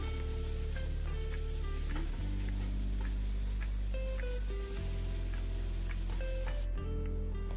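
Spice powders, turmeric and chili, are stirred into an egg mixture for egg pola in a hot pan, giving a steady loud sizzle with a spoon scraping and knocking through it, close up and continuous.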